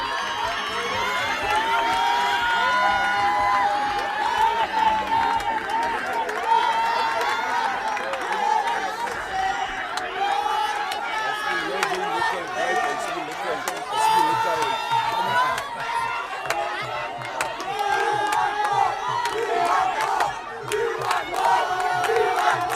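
A rugby crowd of Rooiberg supporters at a regional derby against Rangers De Hoop chants and shouts without pause, a dense, loud wall of massed voices with rhythmic swells throughout.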